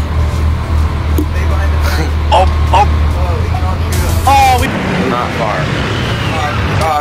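An enemy tank rolls along in Arma 3 Iron Front, its deep, steady engine rumble droning loudly under excited shouting before dropping away near the end.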